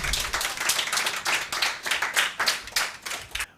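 An audience at a televised Rabi-ul-Awwal religious quiz program claps for the winner, a steady, moderately loud round of applause from a small group that fades slightly toward the end.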